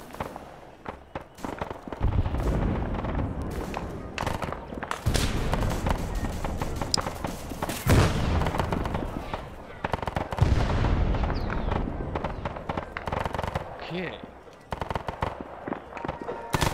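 Repeated bursts of gunfire in a Cold War-era military shooter, with sharp cracks and rattling automatic strings, some close and loud, others more distant, over about seventeen seconds with brief quieter gaps.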